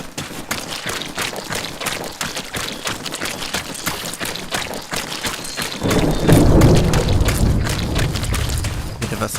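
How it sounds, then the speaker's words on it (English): A thunderstorm in the video game Arma brings steady rain hissing on surfaces. Scattered booms of thunder break through, and about halfway in a heavy rumbling roll swells and lingers under the downpour. "A thunderstorm rolling in by the looks of it."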